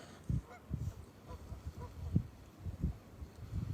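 Geese honk repeatedly at a moderate distance, a series of irregular nasal calls over a low outdoor background.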